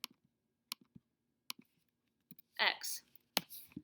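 Quiet, scattered clicks of keys pressed on a graphing calculator keypad while entering numbers, with a short burst of soft speech partway through.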